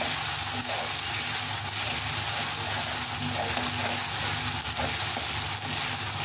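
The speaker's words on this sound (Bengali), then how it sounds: "এখন আমি এক এক করে যে দুটা মশলাগুলো রেখেছিলাম সেই মশলাগুলো দিয়ে দিচ্ছি দিয়ে আবার একটু নাড়াচাড়া করে নেব" Chicken curry with taro roots cooking in a pan, spices being added and stirred, giving a steady close sizzle and hiss with faint scraping throughout, no voices.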